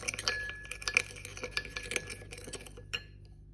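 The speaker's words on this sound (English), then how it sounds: "mix vinegar, sugar, and salt in a little bowl like this" Spoon stirring vinegar, sugar and salt in a small bowl for sushi rice, giving a run of light, quick clinks and scrapes against the bowl, close and fairly quiet, with no talking.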